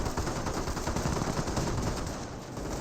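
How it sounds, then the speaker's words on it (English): MG42 machine gun fire in the strategy game Company of Heroes, a dense, continuous rattle of automatic bursts amid steady battle noise, holding at an even level for about three seconds with no talk. "I could have sworn that would be wiped out through that MG42 firing there."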